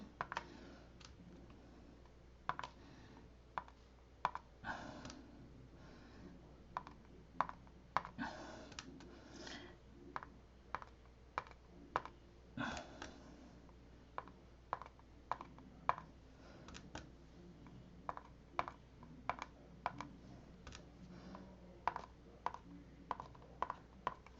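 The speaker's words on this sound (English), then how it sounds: "I bought an antique typewriter." Clacking keystrokes from an antique typewriter, struck in uneven bursts with sharp clicks spread across the stretch, fairly close and moderately loud over a quiet background hum, with no talking.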